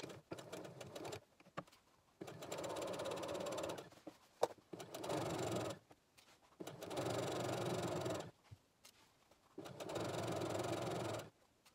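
A sewing machine stitches an infinity scarf in four sustained runs of rapid mechanical whirring, each several seconds long with short quiet gaps between. It sounds near and steady, with no talk.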